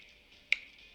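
A single crisp finger snap cracks once, close and clear, in an otherwise quiet moment.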